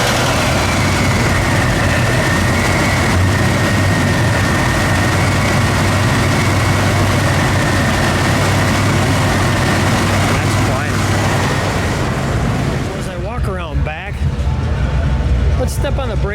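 A 1976 Buick LeSabre Custom 2-door survivor car engine running at a steady idle, a loud continuous low rumble, with voices talking briefly near the end.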